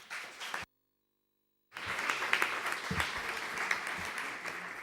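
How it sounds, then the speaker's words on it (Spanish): Conference audience applauds in a hall, a burst of clapping, then a second of silence before sustained, dense applause continues steadily to the end. "Recibámosle con un fuerte aplauso."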